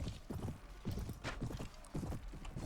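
Horse hooves clip-clopping in a steady galloping rhythm as a mounted rider charges in the medieval combat game Mount and Blade: Warband, close and fairly loud with no talk over it.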